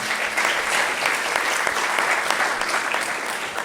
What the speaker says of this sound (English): Again, one more round of big applause for Dr. Swami.